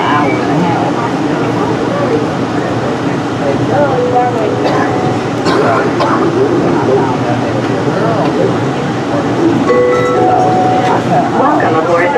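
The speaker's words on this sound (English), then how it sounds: "Welcome aboard the plane train. Please hold on. This train is departing." Airport people mover train at Atlanta airport pulling away from a station, with a steady rumbling, whirring ride noise and faint rail clatter that run throughout, while an automated announcement voice speaks over it.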